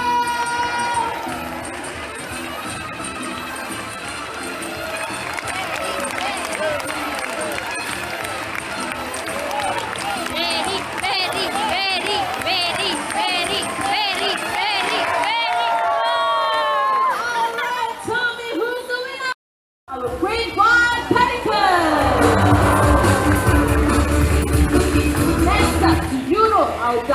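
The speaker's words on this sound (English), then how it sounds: "Supporters, remember to cheer for the birds." An audience at a bird show in Jurong Bird Park, Singapore, fills the air with sustained crowd noise, cheers and excited voices, loud and continuous with a presenter talking over it and a brief cut near the end.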